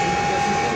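KAI Komuter commuter train pulling into Prambanan station, heard as a brief, steady rumble of rolling stock with a constant hum tone, no voices.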